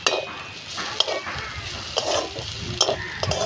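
Cauliflower frying Bengali style in a pan with chilli powder: a constant hiss of hot oil under scraping stirs, with sharp utensil clinks against the pan roughly every second.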